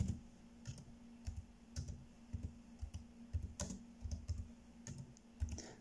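Fingers type steadily on a computer keyboard, with quick, uneven clacks and taps close up over a faint steady hum and no voices.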